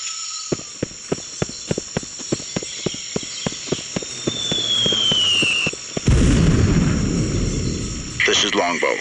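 An artillery barrage in the PC game Delta Force Land Warrior (2000), a rapid series of sharp regular impacts followed by a heavy rumbling blast and a loud rushing roar near the end, with radio-style voices talking over it.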